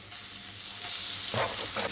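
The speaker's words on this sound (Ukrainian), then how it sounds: "На добре розігріту суху сковорідку відправляю нарізане сало." Diced pork fat (salo) sizzles in a hot, dry frying pan, giving a steady close crackling hiss that grows louder and spits in bursts toward the end.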